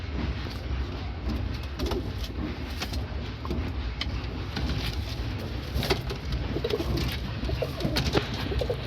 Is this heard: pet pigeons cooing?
yes